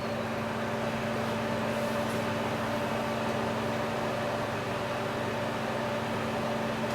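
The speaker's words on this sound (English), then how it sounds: "I just heard the compressor kick in." An air conditioner in an off-grid tiny house runs as a steady, even hum and whir with faint tonal lines, a constant mechanical drone throughout.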